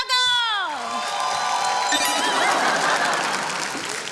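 A studio audience bursts into loud, sustained applause and cheering to welcome host Kapil Sharma on a comedy show stage, with a swelling musical sting at the start and the crowd noise filling the whole stretch.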